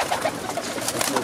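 Racing pigeons in a breeder's loft, a mix of crested and smooth-headed birds, give soft, repeated coos buried in a dense, rushing background noise.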